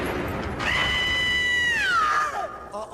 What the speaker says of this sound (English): Although a blood-curdling scream is just as good.